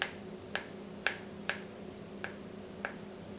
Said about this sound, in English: This is such an easier method to chop the boiled eggs.